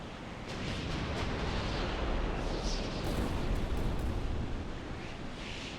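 Deep, rumbling barrage of battle cannon fire in a video game, booms blending into a continuous roar with a few sharper blasts standing out.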